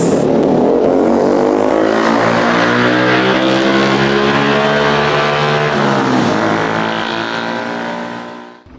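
A car drives steadily with a loud, close engine drone that holds a constant pitch throughout, dipping briefly near the end before fading slightly as the clip closes.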